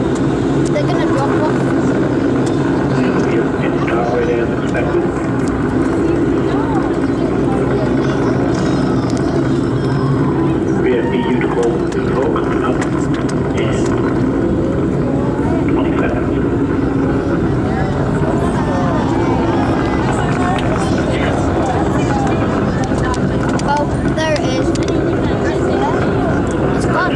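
An Atlas V rocket launching from Cape Canaveral on the USA-240 mission in December 2012 makes a heavy, continuous, rumbling roar that fills the whole stretch, with faint voices of onlookers beneath it.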